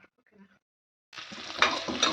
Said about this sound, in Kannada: ಜಜ್ಜಿಟ್ಟ ಬೆಳ್ಳುಳ್ಳಿ ಹಾಕೊಳ್ಳೋ ಬೆಳ್ಳುಳ್ಳಿ ಹಾಕೋತಾ ಇದ್ದೇನೆ ಒಗ್ಗರಣೆ ಮಾಡೋ